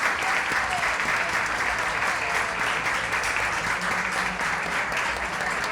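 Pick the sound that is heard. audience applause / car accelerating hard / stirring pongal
audience applause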